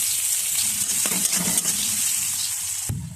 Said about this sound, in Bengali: পরিমাণ মতন তেল দিয়ে পেঁয়াজটাকে ভেজে নেব